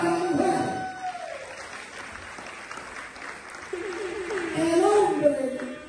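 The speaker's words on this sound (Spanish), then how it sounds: "Fuerte aplauso para la mujer." Applause from an audience at a live comedy show in Saint Martin, moderately loud and continuous, with a voice speaking over it at the start and again toward the end.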